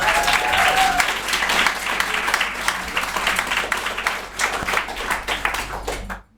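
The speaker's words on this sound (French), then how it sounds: "On peut peut-être les applaudir un petit peu." A live audience applauds the guests at a podcast recording, a dense, continuous wash of clapping close to the microphone that holds steady, then thins and cuts off abruptly at the end.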